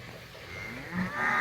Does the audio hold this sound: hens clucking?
no